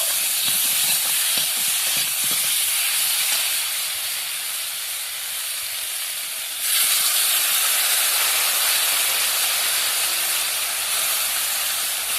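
Ground paste of cumin, coriander and green chili frying in a pan for a thin magur fish and ridge gourd curry, giving a steady, loud broadband sizzle and hiss that continues alone throughout, briefly intensifying partway through.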